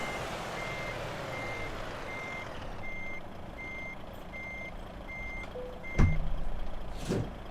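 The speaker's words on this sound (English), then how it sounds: "Let me just go back here now and pick up my trailer." Reversing beeps from a truck in Truck Simulator 2, a steady evenly spaced series of beeps over a low idling engine rumble, followed near the end by a sharp air brake hiss and a second burst.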